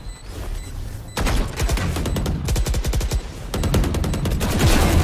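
Rapid automatic rifle sprays crack out in several long bursts in a Valorant match, loud and close, with short gaps between strings of shots.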